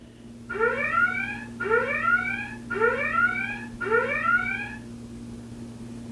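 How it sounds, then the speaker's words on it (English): An Amazon Alexa Echo sounds an alarm: four evenly spaced rising electronic chirp bursts, each about a second long, clear and close over a steady low hum. "Echo, sound the alarms."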